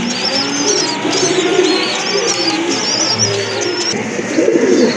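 Large White Beauty Homer pigeons coo softly at a pigeon seller's, low murmuring calls mixed with higher chirps from other birds over a steady background hum and passing traffic.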